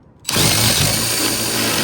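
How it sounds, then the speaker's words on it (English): A power drill with a step bit whirs up abruptly and keeps running steadily at a high pitch, loud and close, cutting into metal. "so we got some more step bit drilling to do"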